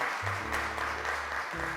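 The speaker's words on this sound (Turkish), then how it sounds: "Arkadaşımız Asya'yı alkışlarla mikrofona çağırıyoruz." A studio audience at a Turkish children's television show claps in a steady wash of applause, with low tones droning beneath the clapping.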